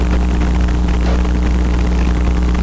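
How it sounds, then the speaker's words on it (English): A 100 horsepower engine drives a 750 pound light sport airplane in flight, a loud, steady droning hum with propeller buzz that holds constant throughout, close and continuous. "they had a 100 horsepower engine in there for a 750 pound airplane"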